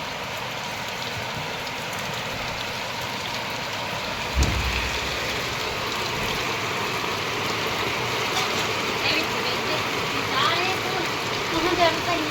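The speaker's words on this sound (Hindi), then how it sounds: "7 बजे भयंकर बारिश आती होगी।" Steady heavy rain with a constant dense hiss, a single thump partway through and faint scattered background sounds.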